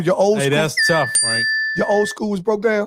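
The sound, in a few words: mobile phone notification ding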